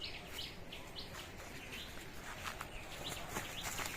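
Birds chirp and tweet in a quiet village by day, with an empty road around them. Scattered short calls repeat throughout over a steady outdoor background hush, moderately distant.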